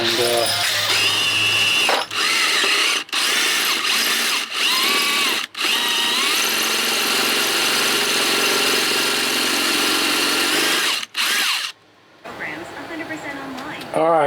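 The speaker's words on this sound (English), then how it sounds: "Gonna have to drill that out." A power drill whines loudly and steadily in long bursts while drilling out a hole in a metal propeller hub, stopping and restarting several times, with a ratcheting mechanical grind close by.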